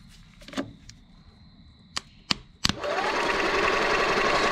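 An old gas golf cart engine sits silent through a few sharp clicks, then its starter kicks in and the engine cranks over with a loud, steady, rapid whirring churn that continues to the end.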